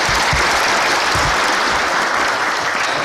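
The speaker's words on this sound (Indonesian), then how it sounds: "Tepuk tangan dulu." Loud, sustained applause from a large audience at a KOKAM gathering, a dense continuous wash of clapping hands filling the room with no talk over it.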